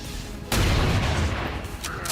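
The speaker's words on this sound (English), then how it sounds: "So let's start shooting." A sudden burst of gunfire erupts in an XCOM 2 tactical battle, a sharp loud crack followed by a rough crackling volley that holds for over a second before easing into a duller tail.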